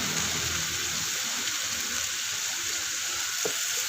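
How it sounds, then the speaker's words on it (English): Calamari boiling in a pot with chili flakes, a steady dense bubbling hiss that runs without a break, close and fairly loud, with no talk. "Now the calamari is boiling,"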